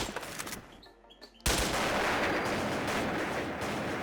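Continuous rapid gunfire in the Wolfteam online shooter, a short burst of shots giving way after a brief lull to a sustained loud barrage that fills the rest of the clip, with no talk over it.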